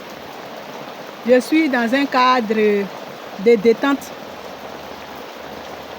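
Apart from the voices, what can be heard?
rain falling outdoors by a lagoon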